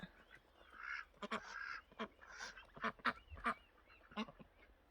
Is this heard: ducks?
yes